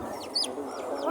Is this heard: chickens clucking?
yes